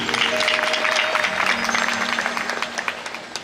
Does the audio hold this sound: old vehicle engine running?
no